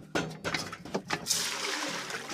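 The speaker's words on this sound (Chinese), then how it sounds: "弟弟翻锅倒水" Water pours into a cooking pot in a rural outdoor kitchen, a continuous splashing fill that runs steadily for a couple of seconds at moderate loudness, with no talk over it.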